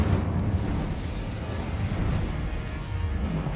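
The Incendio fire spell in Hogwarts Legacy bursts as a loud, dense, rumbling whoosh that stays steady for several seconds, with no voice over it.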